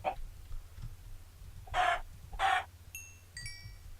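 Minecraft chickens cluck in two short, bright bursts close by, followed by small high chiming game tones over a quiet low hum.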